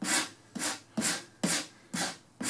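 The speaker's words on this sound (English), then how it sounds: "And hit that with a sanding block." A sanding block scrubs across plywood edgebanding in six even back-and-forth strokes, a close, raspy whoosh about every half second with no voices.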